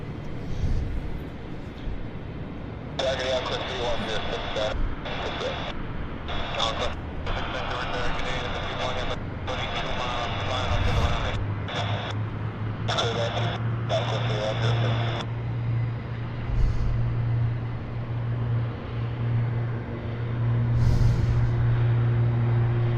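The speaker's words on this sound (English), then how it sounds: "That's nice takeoff." A Beech 1900D turboprop takes off from Vancouver Airport, a distant steady engine roar that swells and deepens, with radio chatter breaking in and out.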